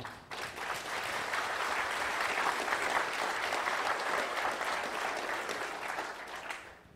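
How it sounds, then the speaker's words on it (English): An audience at a Linux talk gives a sustained round of applause, dense clapping swelling in and holding steady for several seconds before tapering off at the end, with no talking over it. "I'd like to give a round of applause for them"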